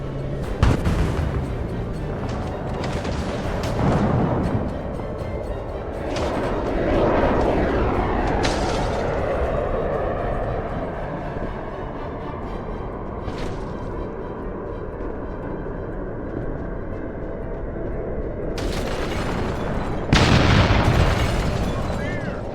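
Explosions in the zombie survival game Project Zomboid, several heavy booms and bursts with long rumbling decays spread across a noisy, chaotic background, with speech at times.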